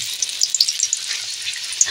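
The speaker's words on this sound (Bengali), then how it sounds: "আলুর কালার চেঞ্জ হয়ে গেছে, দেখুন পুরো ভাজা হয়ে গেছে।" Potatoes frying in hot oil give a steady, close hiss of fine crackles with small bright pops scattered throughout, and no voices over them.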